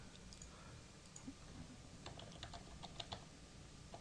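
A computer keyboard typing in a login name and password during a Joomla install, with quiet, irregular key taps in short clusters over low background hum.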